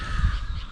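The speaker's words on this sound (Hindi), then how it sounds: "आपको बर्ड्स की आवाज़ सुनाई दे रही होगी चहचहाते हुए" A crow caws against a steady wash of forest ambience near a hilltop temple, with a low rumble of passing vehicles underneath; the call is brief and moderately close.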